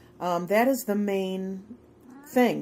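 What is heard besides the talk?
Siamese cat meowing in background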